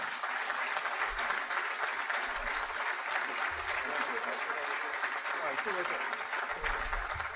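Audience at a morning business breakfast forum applauding a speaker: sustained, dense clapping from a large room, steady throughout at moderate distance.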